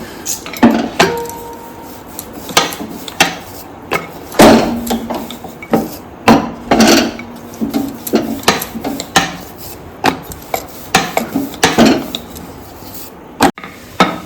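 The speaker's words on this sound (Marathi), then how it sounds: "पीठ न ठेवता लगेच शंकरपाळी करून घ्यायचे आहे लाटून घेऊया" Shankarpali dough is rolled out on a board during Diwali snack making, giving a series of irregular wooden knocks and soft thuds about every second, fairly close and clear, with no talking.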